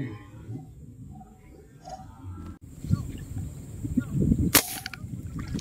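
A single sharp, loud gunshot cracks out once while fishing for snakehead, standing clearly above low rustling and water noise around it.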